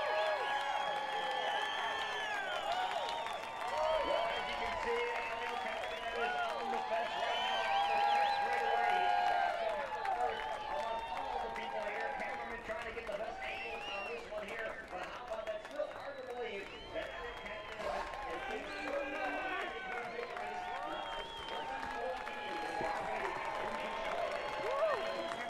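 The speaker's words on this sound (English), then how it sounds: "Listen to the crowd." Crowd at the Iowa Speedway IndyCar race cheering and applauding steadily as Helio Castroneves wins the Iowa Corn 300, a dense roar with scattered whoops sustained throughout, with a commentator's voice layered over it.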